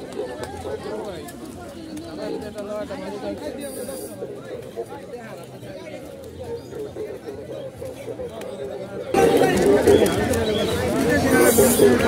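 Pigeons coo among the crowd at the Fatullah pigeon market. Constant talk and market babble surround them and grow louder near the end.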